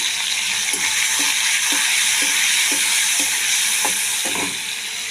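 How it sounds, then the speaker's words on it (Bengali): Prawns seasoned with salt and turmeric fry in oil with cumin and bay leaf, making a steady, close hiss of sizzling with soft regular clicks of stirring throughout. "চিংড়ি মাছের মধ্যে একটু নুন, একটু হলুদ দিয়ে মাছটা ভেজে নেব।"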